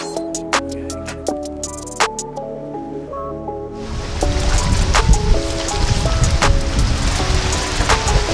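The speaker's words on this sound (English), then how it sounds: "Scary, it literally just started raining." Rain begins falling outdoors on a city street, a dense steady hiss that swells in at about four seconds and continues loud to the end, with scattered sharp tonal clatters and knocks heard before and during.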